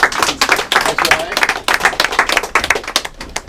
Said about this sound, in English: Round of applause for our volunteer up on the treadmill.